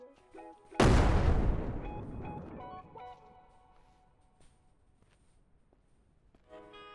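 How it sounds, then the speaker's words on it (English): A grenade explosion in the video game Surroundead: one loud, close boom hits after a short pause and fades out over a couple of seconds, with game sounds before and after. "I'm gonna try and toss a nade inside there"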